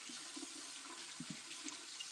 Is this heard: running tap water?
yes